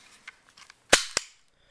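Airsoft pistol slide, on a 3px4 model, being pushed back onto the frame: two sharp, close plastic-and-metal clacks about a quarter second apart, after a few faint handling clicks, with no talking.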